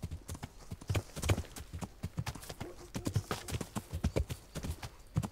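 Horse hooves clip-clop at a steady walking rhythm in the Kingdom Come Deliverance video game, close and fairly loud, with a few softer knocks between strides and no talk over them.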